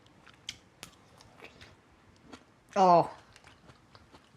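One sharp, loud crunch of someone biting into cooked cucumber from a vegetable stew with glass noodles, close to the mic, amid quiet mouth sounds and a brief murmured exclamation.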